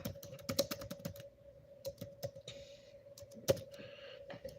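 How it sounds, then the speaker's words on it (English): Rapid bursts of computer keyboard typing, close and crisp, as a card price is entered during a trading card sorting session, with a steady tonal hum underneath and short pauses between keystroke runs. "And I'm gonna type that in."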